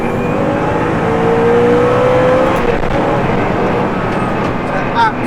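A Hennessey Venom F5 Revolution Evo at full throttle in track mode, its engine note climbing steadily in a loud, continuous roar with the rising pitch of hard acceleration, recorded from on board.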